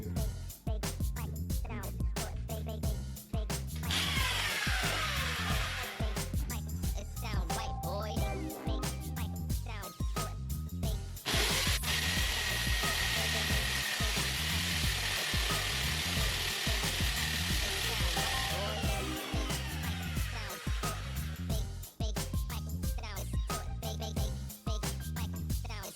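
A 15-inch through-wall drill bores a hole with a steady, loud grinding and whirring, continuous throughout with rhythmic pulsing and brief surges of harsher, brighter noise partway through.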